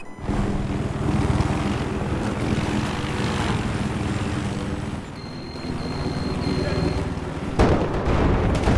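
A helicopter in the shooter game Battlefield 4 drones with a dense, loud, rotor-and-engine rumble throughout, punctuated by a sharp burst near the end.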